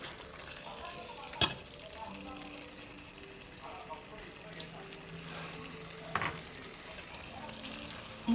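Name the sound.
sautéing ingredients in a pan for pork roast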